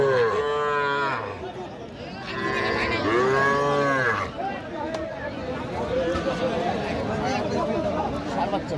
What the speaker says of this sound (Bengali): ষাঁড় বাচ্চা ভাই। ষাঁড় বাচ্চা।